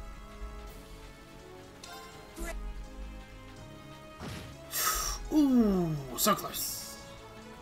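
A Zodiac Rain attack from the Trails of Cold Steel 2 video game, with loud bursts, a descending sweep of bright tones and a crashing shatter arriving in a cluster amid game music, while a voice speaks briefly over it.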